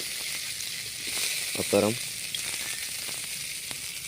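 Chopped green chili, onion, carrot and beans for veg fried rice frying in a pan, a steady hiss of sizzling oil throughout, with someone speaking briefly in the middle.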